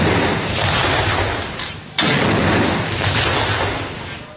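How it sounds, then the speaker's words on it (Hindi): Artillery cannon fire a 21-gun salute at Colonel Sher Khan Stadium in Peshawar, with a Pakistan Army contingent. Loud booming blasts roll and echo broadly, one sharp report cutting through midway. "पेशावर के कर्नल शेर खान स्टेडियम में भी 21 तोपों की सलामी दी गई।"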